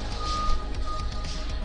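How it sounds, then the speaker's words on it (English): A vehicle outside gives off steady repeating reversing beeps over a low engine rumble, loud and continuous across the whole stretch with no talking. "What is that beeping out there?"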